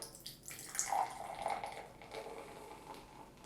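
Craft beer pours into a glass with a soft gurgling trickle and faint fizzing, quiet and close.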